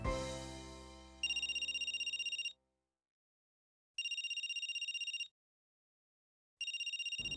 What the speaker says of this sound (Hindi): कुछ देर बेल बजने के बाद फोन अपने आप कट गया।